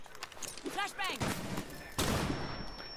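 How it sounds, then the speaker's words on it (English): A flashbang grenade detonates in Rainbow Six Siege with a sudden, loud, sharp blast and ringing afterglow, following game gunfire and a player talking over it. "I flashbanged myself"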